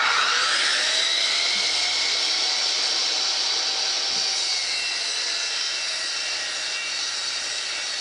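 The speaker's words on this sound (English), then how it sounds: "We'll flip the paddle switch to turn on the saw motor." Safety Speed panel saw motor runs with a loud, steady high whine and rushing hum, cutting through a panel with no speech.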